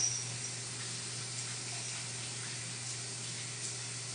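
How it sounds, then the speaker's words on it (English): Water running to rinse hair dye out of hair, a steady faint hiss of spray with a low hum beneath, continuous and unbroken. "I'm gonna rinse that off."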